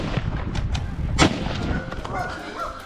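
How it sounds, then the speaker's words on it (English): A burst of gunfire during a wild boar hunt with one sharp, loud crack among several rapid shots, set against a busy, rumbling outdoor background. "Rapid gunshots echoed"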